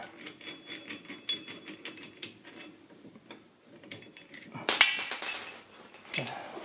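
Faint ratcheting clicks from a tool screwing down a rear brake caliper part on a 2009 Citroën C5 2.0 HDi during a pad change, a run of soft ticks with a few louder metallic bursts toward the end.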